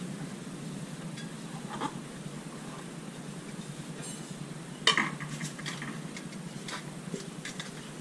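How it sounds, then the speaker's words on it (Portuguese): Lunch dishes being washed in a home kitchen: a steady hiss of running water with scattered light clinks of cutlery and pots, and one sharper clatter midway. "tá quase na hora da janta e eu tô lavando a louça do almoço."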